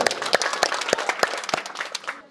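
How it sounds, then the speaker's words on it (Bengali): An audience at a health talk claps, with a loud burst of applause in which a few sharp individual claps stand out in a fairly even rhythm before it fades at the end. "তো ওনার জন্য জোরে আমরা একটা করতালি দিই, জোরে সবাই"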